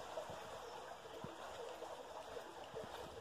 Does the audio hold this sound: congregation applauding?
no